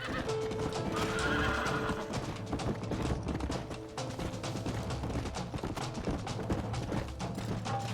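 Horse hooves clip-clop steadily alongside repeated whinnying in the Red Dead Redemption video game, a continuous busy mix of galloping and neighing with a faint voice in the background.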